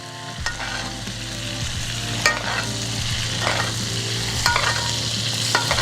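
A ribeye steak sizzles loudly in a pan as butter and garlic are basted over it, with steady frying crackle and repeated spoon scrapes and clinks throughout.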